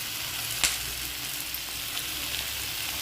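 Ginger and vegetables sautéing in a home-cooked dish with drumstick leaves to follow, giving a steady low sizzle and hiss throughout, with one brief louder clatter near the start and no talking.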